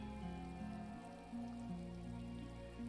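Steady rain falls in the video game Disco Elysium, a soft continuous patter over low sustained music tones, with no talking.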